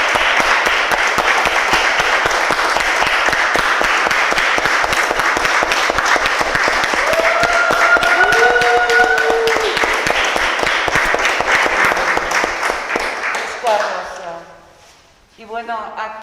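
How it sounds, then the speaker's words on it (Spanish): An audience at a talk on biohabitability applauds loudly and steadily for about fourteen seconds, dense clapping that fades out near the end as the room quiets. "Le aplaudimos un poco."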